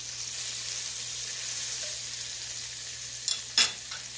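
Butter and oil heating together in a pan for smothered pork steaks, a soft even sizzle held throughout, ending in two sharp clatters near the close.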